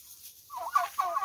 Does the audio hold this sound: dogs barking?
no